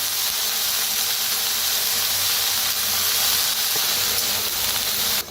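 Mixed vegetables, including carrots and potatoes, roast and sizzle over a village wood-fired stove, a loud, steady hiss that runs unbroken and ends with a brief clatter.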